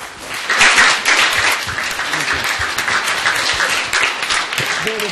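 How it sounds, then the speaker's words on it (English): Audience at an awareness-week panel event applauds the speakers after a discussion, loud sustained clapping from a crowd that fills the room, with a voice briefly audible near the end. "let's give our speakers a big applause for that discussion"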